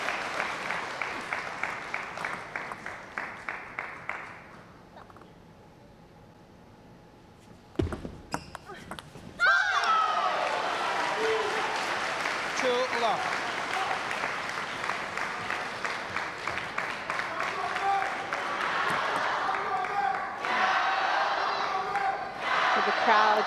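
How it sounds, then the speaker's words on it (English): At a women's doubles table tennis semifinal, spectators in the arena clap rhythmically, go quiet, then burst into loud sustained applause and cheering for Team China, with rally bounces and commentary mixed underneath. "Cheering for Team China."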